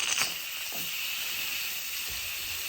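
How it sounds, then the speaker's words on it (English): A steady, fairly quiet hiss of steam escaping through an Instant Pot pressure cooker's release valve runs throughout, with a few faint clicks and thumps beneath it. "So I'm going to release the valve back here."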